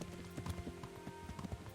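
Horse hooves clop in a quick, even rhythm close by in the medieval video game Kingdom Come: Deliverance, with a low musical drone beneath and no talk.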